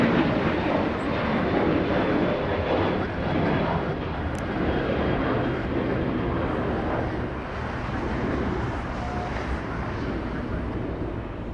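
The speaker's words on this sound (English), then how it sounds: "It could have been Delta 737 taxiing northbound" A Delta Boeing 737 airliner taxiing northbound at Los Angeles International Airport, its engines giving a loud, steady broadband roar that stays constant, with some wind noise on the microphone.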